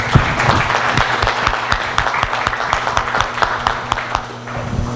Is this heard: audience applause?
yes